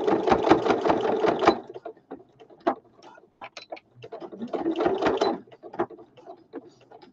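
A sewing machine stitches elastic onto a fabric journal cover in two loud, rapid mechanical bursts, separated and followed by quieter clicks and handling sounds.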